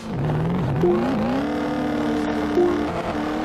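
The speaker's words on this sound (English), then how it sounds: "The same goes for the sounds of some of the trucks, which resemble lawn boys with nitrous kits instead of the horsepower-laden beasts they're supposed to be." A truck engine in the video game Excite Truck, with a thin, buzzy whine like a small lawn mower motor, climbing in pitch as it revs and then holding a steady, loud drone.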